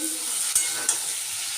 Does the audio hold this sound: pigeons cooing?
no